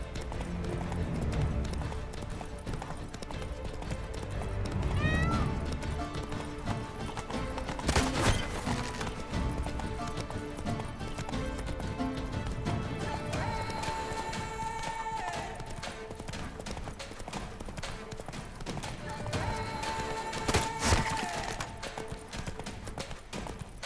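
Horse hooves clip-clop and gallop in The Witcher 3 video game, a steady rhythmic pounding throughout with occasional whinnies and other game sounds layered over it, moderately loud and close.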